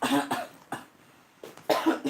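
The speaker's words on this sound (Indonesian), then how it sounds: "Ini campur batuk," A person with a cold and a hoarse voice coughs several times in quick, husky bursts, close by, with short pauses between them.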